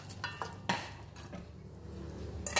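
A utensil scrapes and clinks against a pan as peanuts, anchovies and curry leaves are stirred together in oil, giving a few sharp metallic taps over a steady low sizzle.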